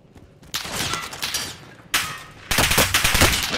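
Bursts of assault-rifle gunfire in the video game Call of Duty: Modern Warfare, loud and close, coming in several sharp volleys with brief gaps between them and no talking.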